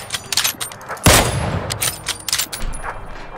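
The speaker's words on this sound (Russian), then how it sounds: "Такой себе выстрел, сори." A single loud gunshot blast cracks out about a second in during a PUBG match, followed by a rumbling tail among busy game sounds and clatter.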